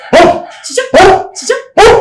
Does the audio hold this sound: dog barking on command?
yes